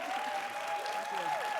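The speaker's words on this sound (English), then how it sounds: "Let's give them a round of applause." Applause from a conference audience for a panel on women-on-women bias, a brief, steady patter of clapping with voices mixed in.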